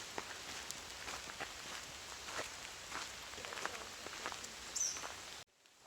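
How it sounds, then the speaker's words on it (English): Light rain sprinkling on the Appalachian Trail, faint scattered patters and ticks over a soft hiss, quiet and irregular, cutting off abruptly near the end. "It's been sprinkling for the past 45 minutes or so."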